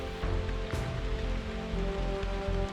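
Steady rain patters on the ground and gear during a wet hike beside the Lech river, a dense continuous hiss with a few closer drops and low rumbles, with no voices.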